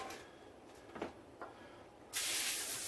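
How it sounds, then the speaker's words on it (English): A short burst of olive oil spray hisses steadily onto a sheet pan near the end, preceded by a couple of soft clicks and taps. "a little bit of olive oil spray"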